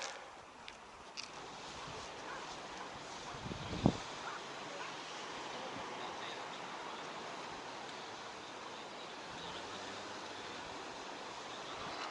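Steady ocean surf and sea wind at a coastal lookout beside a parking area on a European shore, a broad continuous wash of noise with one brief thump partway through.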